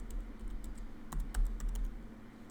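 Typing on a computer keyboard while entering text in a technical drawing program: a brisk, irregular run of close, crisp key clicks with a few heavier taps, no voices.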